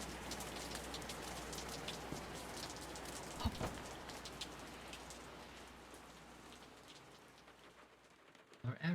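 Steady rain pours in a video game, a soft dense hiss of falling drops throughout, with a couple of brief louder knocks midway and the patter thinning toward the end.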